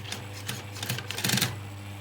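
A sewing machine stitches over the original seam of a leather jacket being taken in, a brief burst of rapid needle clatter at close range that swells and then fades.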